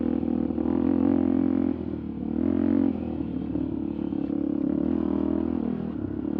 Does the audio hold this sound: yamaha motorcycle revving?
yes